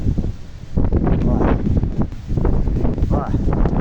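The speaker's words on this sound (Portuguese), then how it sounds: "Agora a ventania aqui tá pesada, né?" Strong wind gusting outdoors in Pernambuco ahead of an approaching rainstorm, loud buffeting rushes across the microphone in uneven bursts, with a person talking over it.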